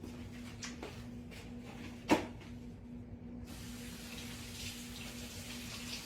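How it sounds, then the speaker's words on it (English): Cold tap water runs into a kitchen sink over a beef roast being rinsed. A single clunk comes first, then a steady, fairly quiet rushing stream that starts partway through and continues to the end. "I just rinsed it off with some cold water."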